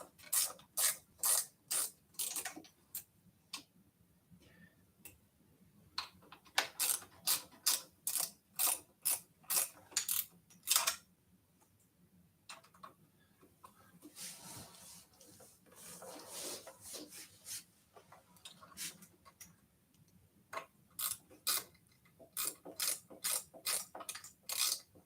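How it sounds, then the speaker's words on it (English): Bolts on the stem of a RadRunner Plus e-bike are loosened with a ratcheting tool, giving bursts of rapid clicking ratchet strokes separated by quieter pauses, close and crisp. "I kind of tightened some of the bolts down, not evenly, so I'm going to loosen these up just a little bit"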